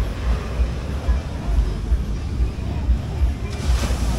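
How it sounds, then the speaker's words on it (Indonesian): Ocean waves at a harbour shore facing Sumbawa, a low rolling rumble of surf with heavy wind buffeting the microphone, steady and close throughout. "Ombak"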